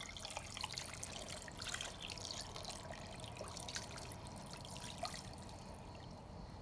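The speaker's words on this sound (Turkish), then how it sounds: "Ve suyunu koyuyorum." Water pouring into a pot for boiled chicken, a faint steady trickling stream lasting throughout without any talk.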